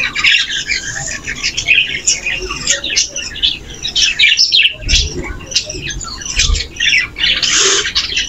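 Loud, harsh parrot squawks repeat in rapid bursts, close by, with brief pauses and some background shuffling.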